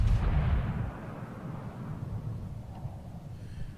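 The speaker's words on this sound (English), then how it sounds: "So when my gun's reloaded, 5 seconds, 4, 3, 2, 1, boom." Heavy battleship main guns fire in a World of Warships naval battle, a loud low boom at the start that rolls into a long rumbling decay with no voices over it.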